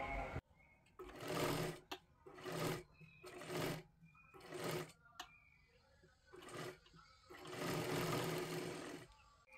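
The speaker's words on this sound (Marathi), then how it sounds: "हे पहा, आता ही बाजू आपल्याला शिलाई करून घ्यायची आहे।" A sewing machine stitching the cup section of a katori blouse runs in repeated bursts of about a second each, with short pauses between. It is close and fairly loud, with a longer run at the end.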